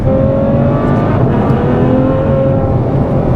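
Loud, steady Ferrari F12 V12 engine roar, a 2015 model, with a high, buzzing tone that rises slightly, close and continuous with no voices.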